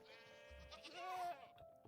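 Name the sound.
goats bleating in Minecraft TerraFirmaCraft video game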